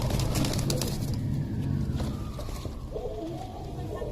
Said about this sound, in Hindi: ये इनके पास दोस्तों कबूतरी है।